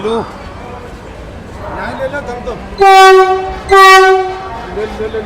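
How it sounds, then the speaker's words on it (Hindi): A Vande Bharat Express train being brought into platform 7 at Hazrat Nizamuddin railway station sounds two loud, close horn blasts about a second apart over busy platform noise with people talking. "अपनी वंदे भारत एक्सप्रेस अभी लगाई जा रही है हजरत निजामुद्दीन रेलवे स्टेशन के प्लेटफॉर्म नंबर 7 पर"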